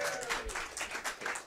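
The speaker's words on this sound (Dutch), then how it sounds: "Ja, een applaus!" Fairly faint audience applause at a live show, a brief patter of clapping with a slightly pulsing rhythm lasting under two seconds.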